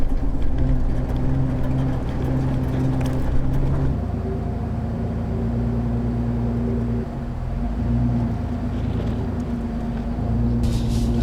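A Jeep LJ Rubicon rumbles steadily as it pulls out of a garage, its engine note dropping slightly as it eases forward, close and continuous with no talking.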